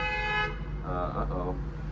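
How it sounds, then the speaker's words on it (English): Car horns honk outside in a steady sustained tone, with a second horn note rising partway through, heard over someone talking indoors. "they're honking out there."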